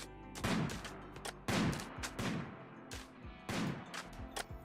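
Gunfire rings out in the colony-building game RimWorld, with several sharp shots in a loose series, each followed by a short ringing decay, at moderate loudness.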